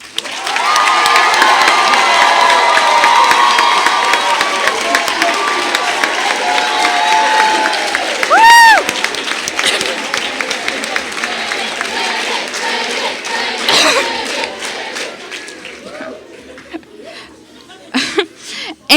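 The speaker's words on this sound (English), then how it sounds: "let's give them a round of applause." Applause and cheering from a crowd at a closing awards ceremony for media delegates, loud and steady at first, then thinning out with scattered claps and a few shouts.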